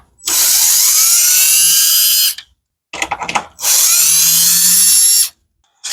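Power driver backing Torx screws out of grill trim on a Ford Ranger Raptor, two long loud whirring runs up close separated by a brief rattling pause.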